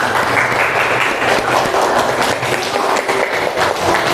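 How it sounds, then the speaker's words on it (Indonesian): Loud, close classroom applause from students, a dense continuous clatter of clapping that holds steady for the whole stretch with no talk over it. "Tepuk tangan untuk kita semua."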